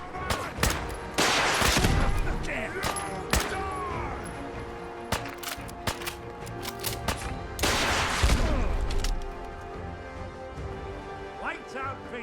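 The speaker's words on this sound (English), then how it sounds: "Stop shooting me." Heavy gunfire in a Fallout 4 firefight, with bursts of rapid automatic shots and single loud cracks, plus thuds and impacts throughout, the densest volleys near the start and again around the middle.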